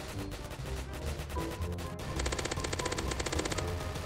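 A machine gun hammers away in Roblox zombie mode, a steady, rapid stream of loud close shots that grows tighter and more regular in the second half, with no talking.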